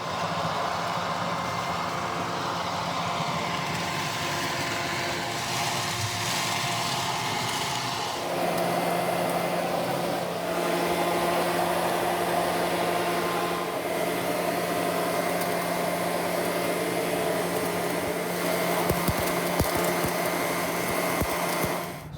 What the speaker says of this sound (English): So now we're going to convert the leaf blower into a vacuum.